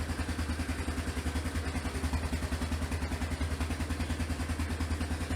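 A Yamaha Big Bear ATV engine, freshly repaired with a new fuel gauge and front brake pads, runs at a steady idle with an even, rapid pulsing throb, close by and alone.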